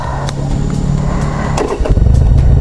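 A Harley Sportster Classic motorcycle with a quieter aftermarket exhaust pipe pulls away, its engine rumbling steadily and building with a few sharp gear-change bursts, close by and with no talking.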